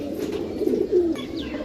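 Pigeons kept for sale coo softly and close by, a low throaty burble rising once and swelling again near the end, with faint rustling around them.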